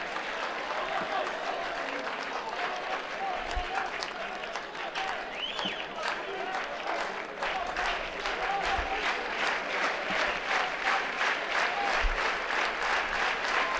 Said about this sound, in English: Love to hear the crowd.